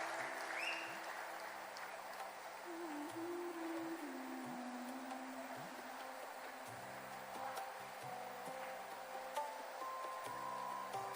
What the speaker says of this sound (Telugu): ఒకసారి మనందరం కూడా గట్టిగా చప్పట్లతోటి అభినందనలు తెలియజేద్దామా?